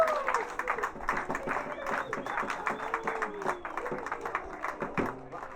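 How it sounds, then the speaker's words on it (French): An audience at a choral concert claps for itself, producing a dense, steady patter of applause with voices and a sung or called tone mixed in, moderately loud and fairly close. "Vous pouvez vous applaudir pour votre présence et votre participation."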